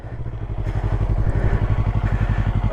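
A motorcycle engine idles and putters with a steady low pulsing beat during a riding lesson, close and fairly loud, no voices over it.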